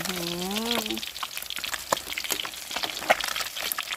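Catfish frying in hot oil makes a loud, continuous crackling sizzle with scattered sharp pops, opening under a brief tonal voice or meow.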